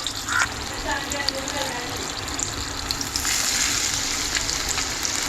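Dry red chillies frying in a pan give a steady, close sizzle and hiss that swells louder in the second half, with faint background voices.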